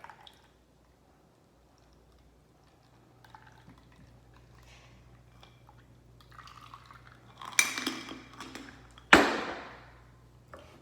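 A Bee's Knees cocktail is poured into a coupe glass, beginning with faint clinks and drips, then a brief splashing pour and a sharp ringing clink near the end, all close and quiet.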